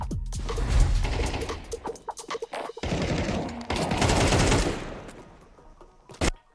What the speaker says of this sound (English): Why the fuck was this guy shooting?